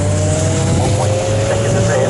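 Race cars drone steadily past at a Snetterton trackday championship race, a loud continuous engine hum with a sustained whine throughout, under faint commentary.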